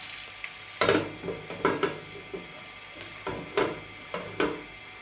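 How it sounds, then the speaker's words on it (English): Chicken breast and ackee simmering in a covered pot, Jamaican style, with a few soft stirring scrapes and lid clinks over a low steady sizzle, a washing machine rumbling faintly in the background. "And let it simmer for a bit."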